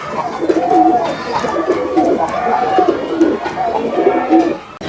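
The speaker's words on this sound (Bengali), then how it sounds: "গিরিবাস কবুতার বলে আর এটার বাজিটা হলো আপনার শর্ট বাজি" Giribaz pigeons on a rooftop loft coo loudly and continuously, with overlapping throaty rolling coos repeating in a steady rhythm up close.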